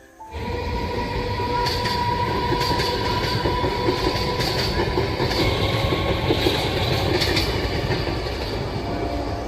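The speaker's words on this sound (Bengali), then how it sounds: "ট্রেন আসছে একটা ওই দিক থেকে" A train rumbles loudly past close by, wheels clattering rhythmically on the rails with a steady high whine over the roar.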